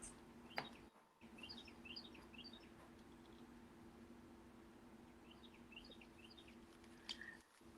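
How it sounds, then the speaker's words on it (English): Birds chirp outside on a morning, short bright tweets in scattered bursts over a steady low hum, fairly faint and without talking. "The birds are out there this morning."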